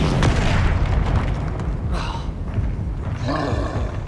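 Blasting-curse explosions from a fantasy video game, a loud continuous roar of booming bursts rolling one into another across the whole stretch, with a brief rushing crackle near the middle and again toward the end.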